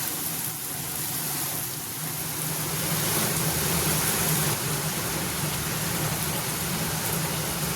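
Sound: rain

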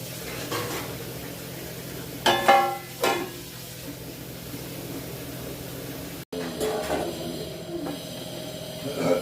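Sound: fish curry boiling in pot

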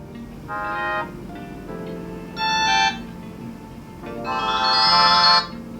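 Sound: GW33 smartwatch notification tone

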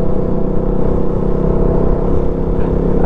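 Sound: motorcycle riding at speed

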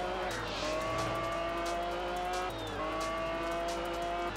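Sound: race car driving in video game Test Drive Unlimited

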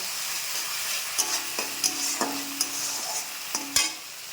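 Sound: stirring food frying in a pan

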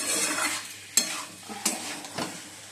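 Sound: boiled potatoes being added and stirred in frying pan

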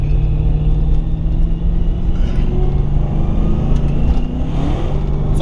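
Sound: car engine running while driving

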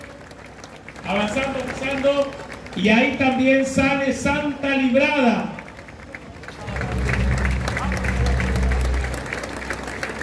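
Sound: applause at a religious procession

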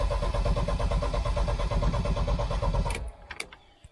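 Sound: car engine cranking with starter

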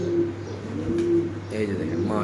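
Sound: pigeons cooing

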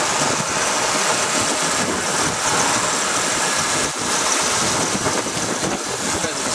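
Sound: 1966 Ford Mustang Fastback engine idling

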